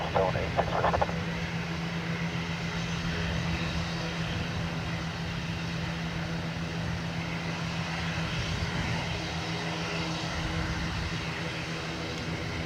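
A fixed-wing airliner's engines drone steadily on the runway at Dublin Airport, a sustained distant rumble with a faint tonal hum, heard under air traffic control radio chatter.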